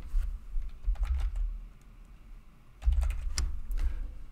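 Computer keyboard typing in two quick bursts of clattering keystrokes, close and clear, separated by a short pause with no talk.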